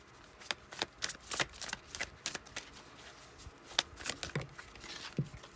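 Tarot cards shuffled by hand in close, quiet bursts of riffling and flicking, with soft slaps between them over roughly five seconds and no voice.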